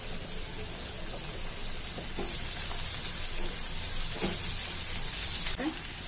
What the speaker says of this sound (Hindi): कैप्सिकम रखा था सारे तेल में डाल दिया। इसे हम 5 मिनट तक फ्राई करेंगे।